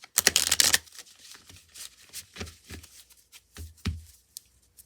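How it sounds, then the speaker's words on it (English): Mermaid Tarot cards are shuffled by hand, a loud riffle at the start followed by softer, intermittent flicks and taps of the deck, close and quiet overall. "Now, I did pre-shuffle, but I'm going to do just a few more."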